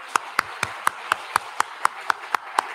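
Slow, evenly spaced claps from a church congregation during a Sunday morning service, about a dozen sharp beats in a steady rhythm, close and distinct.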